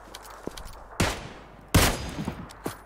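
Gunfire in PUBG Lite: two loud, sharp gunshot bursts about a second apart, each with a ringing tail, amid faint footsteps and lighter scattered clicks.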